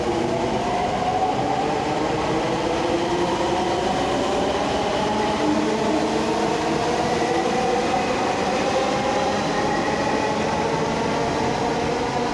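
A Delhi metro train runs steadily with a continuous loud rumble and rail noise throughout, no voices present.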